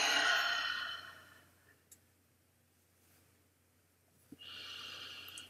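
Deep breaths during a stretching exercise, with a long audible exhale at the start, a quiet pause, then another drawn-out breath near the end.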